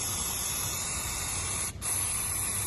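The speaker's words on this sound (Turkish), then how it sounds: "Bal sprey getir Evet şimdi akan yağımızı temizliyoruz arkadaşlar" An aerosol cleaner sprays steadily onto leaked engine oil on a Volkswagen engine after an oil pressure regulation valve repair, a continuous close hiss broken by one brief pause before resuming.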